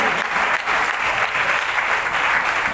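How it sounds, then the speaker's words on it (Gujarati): An audience claps loudly and steadily throughout at a Gujarati stage performance, with dense, continuous applause close up and no pauses. "તમે તો તાળીઓ પાડો છો"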